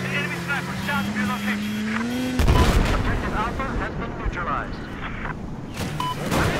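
Battlefield 4 match with a heavy, booming gunshot from a sniper rifle followed by a rumbling blast and vehicle roar amid game noise; people talk throughout.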